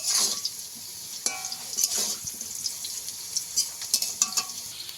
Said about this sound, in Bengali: আমি ভালো করে একদম আলুটাকে ভেজে নেব লাল লাল করে